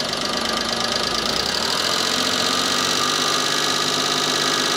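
A cogeneration engine coupled to a generator runs steadily, a loud, continuous mid-pitched drone with a rapid knocking pulse and a slight rise in pitch toward the end, with no voices.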